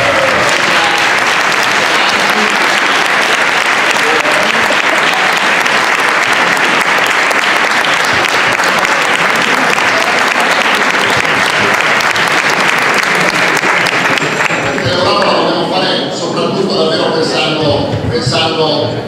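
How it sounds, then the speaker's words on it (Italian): Loud, sustained applause from an audience greeting arriving School of Democracy students at a political gathering, dense clapping running for many seconds before thinning toward the end, with some voices mixed in. "io farei un altro applauso agli studenti della School of Democracy che sono arrivati adesso"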